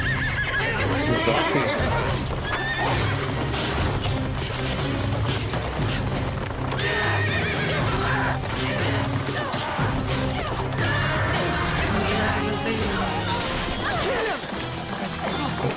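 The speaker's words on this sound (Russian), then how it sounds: "Нифига себе лошади откормлены." Horses neighing and whinnying in a TV series scene, Legend of the Seeker, loud and continuous amid clattering, crashing action sounds and music, with a voice speaking briefly over it.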